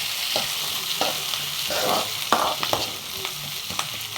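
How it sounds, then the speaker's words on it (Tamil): Onions and garlic sizzling and frying in a pan up close, with occasional scraping stirs of a utensil against the pan. "பூண்டு சேர்த்துருக்கேன் நல்லா வதக்கணும்"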